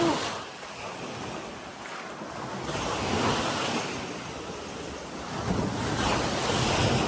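Sea waves at Puka Beach, Boracay, at noon wash in a steady broadband roar that swells and recedes, with wind buffeting the microphone and no clear speech.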